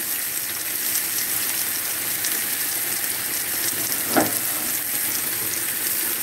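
Country fried steak sizzles steadily in a frying pan, a dense constant hiss of hot fat with one brief louder scrape or pop partway through, close and alone with no talking.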